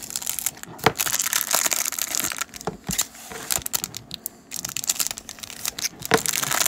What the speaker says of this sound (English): we didn't get it, so use the X-Acto knife and we'll cheat